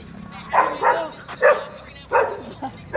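A dog barks several times in short bursts, fairly close, with irregular gaps and a low hum underneath.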